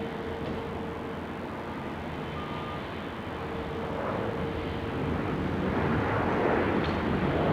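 Qatar Airways airliner taxiing down taxiway Alpha at Sydney Airport, a steady broadband engine roar heard from a distance that swells gradually louder toward the end, with no voices over it.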